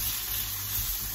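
Zucchini frying in a pan, a soft, steady sizzle and hiss of oil, quiet and continuous, with no voices.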